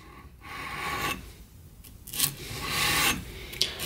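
Abrasive rasping from a 120 grit belt against a thick titanium knife blade comes in uneven strokes and bursts. It is close and moderately loud, with no voices.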